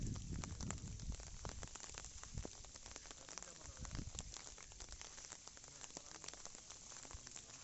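Heavy rain falls at a riverside fishing spot on the Krishna River, a dense, steady hiss of drops with scattered sharper splashes throughout and faint voices beneath.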